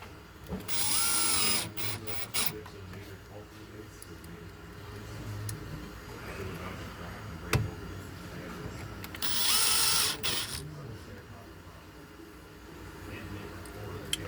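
A power drill with a 1/4 inch drive runs in two short bursts, driving short number 6 screws, each a whirring spin of about two seconds, fairly close, with quiet handling clatter between them and a person talking at times.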